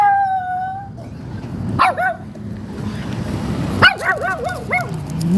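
A dog outdoors barks and howls in two separate bursts of high, yelping yips, moderately close over steady background noise.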